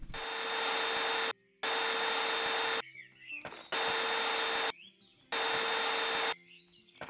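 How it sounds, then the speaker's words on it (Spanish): A powerful vacuum cleaner in the video game Garage Flipper runs in three loud bursts, each a steady whooshing roar with a whining tone lasting about a second and a half, separated by short gaps with faint clattering. "Vamos a la aspiradora a ver qué tal funciona."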